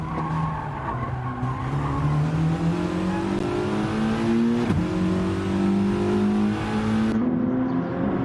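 A race car brakes hard and skids during a CRT championship race, its steady engine drone bending in pitch under a continuous tire squeal, loud and close throughout.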